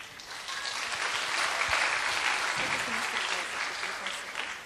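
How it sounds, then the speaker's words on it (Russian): Festival audience applauds as a speaker takes the stage, with a continuous wash of clapping that swells and then slowly tapers, full and fairly close. "поднимается на сцену под ваши аплодисменты"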